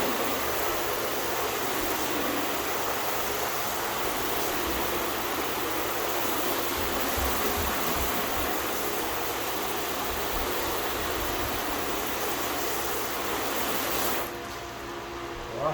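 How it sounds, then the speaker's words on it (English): Steady broadband rush of running water rinsing a car, constant and fairly loud throughout, cutting off abruptly near the end. "Rinse it off."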